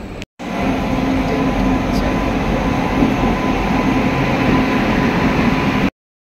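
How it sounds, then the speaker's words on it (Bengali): A train pulling into a station: a loud, steady rumble of rolling carriages close by, running unbroken until it cuts off abruptly near the end. "চলো ট্রেন আসছে আমাদের।"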